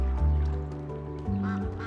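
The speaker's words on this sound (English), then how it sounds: "Ducks." Cartoonish duck quacks from the video game SCHiM, several calls in quick succession over a sustained musical backdrop, fairly loud and close.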